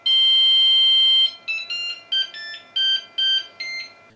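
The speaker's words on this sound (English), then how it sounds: "It, however, is very vocal, with beeps on startup and the completion of prints." Flashforge Adventurer 3 3D printer sounding its electronic beeper up close: one long steady tone followed by a quick melodic run of about eight short bright beeps at varying pitches.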